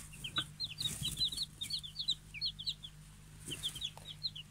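Several young Pekin chicks give soft, high peeping chirps in quick, irregular bursts throughout, close by and fairly quiet over a faint low background hum.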